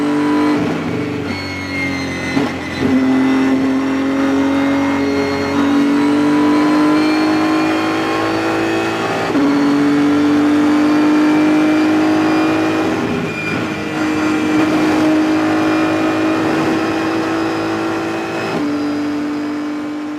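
A race car at full throttle on the Road America circuit approaching the famous kink: a loud, close engine wail climbing steadily in pitch, broken by quick gear shifts near 3, 9 and 18 seconds, continuous for about twenty seconds.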